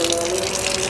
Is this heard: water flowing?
yes